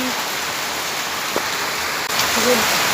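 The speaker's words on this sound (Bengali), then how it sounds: "বৃষ্টিটা ছাড়ছেই না" Persistent rain falls in a steady broadband wash, close and fairly loud, with faint tones and brief knocks over the top and no clear talk.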